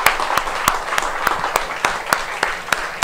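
A church congregation claps during worship with rain falling, sharp rhythmic unison claps at a steady beat over a bed of diffuse hiss and scattered clapping.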